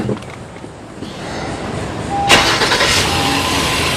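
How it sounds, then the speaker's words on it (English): A 2018 Honda Odyssey engine cranks and catches partway through, then settles into a steady close idle after a quiet, muffled lead-in. "We will go ahead and start up and idle the engine for 15 minutes."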